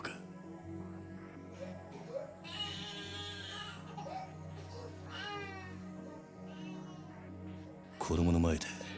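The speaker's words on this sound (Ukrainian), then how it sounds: "ну, чуєш цей плач?" A child cries in wavering, high-pitched sobs through a Yakuza 0 game scene, over a steady low background hum and drone, ending with a louder sharp wail.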